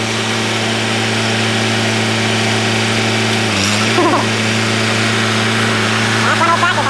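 An old Massey Ferguson tractor engine runs at a steady mid-pitched drone nearby, with voices talking over it partway through.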